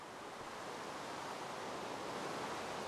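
Rain falls with water draining away in a video game, a faint, steady broadband hiss like distant surf or wind that holds constant throughout, with no voices.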